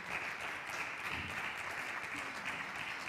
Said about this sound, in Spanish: Un aplausín para él